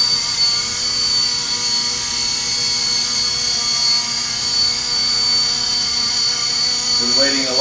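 A Novus FP200 RC helicopter hovers and settles onto a landing pad, its rotor giving a steady high whine with a thin buzzing motor tone, close and continuous, briefly rising in pitch near the end.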